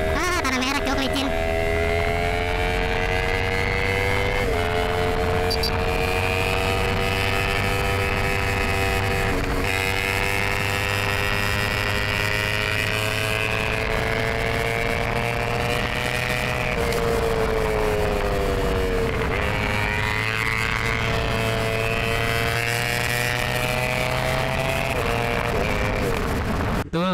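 A motorcycle rides over slippery red dirt, its engine droning loud and close without a break, the pitch rising and dipping as the throttle changes, with rough wind noise over it throughout.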